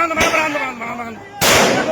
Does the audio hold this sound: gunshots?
yes